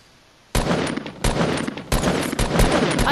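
After a quiet moment, heavy bursts of gunfire erupt in a shooter video game, several loud, close volleys of shots separated by brief gaps, with no talking.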